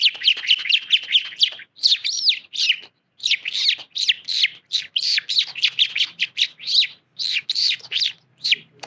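A man mimics bird chirps by voice, producing a long run of sharp, high tweets and trills in quick bursts with short pauses, loud and close with no background noise.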